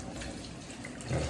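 Homemade vegetable broth poured from a pot into a strainer in a home kitchen, a steady rushing splash of liquid that swells louder near the end, with no talk.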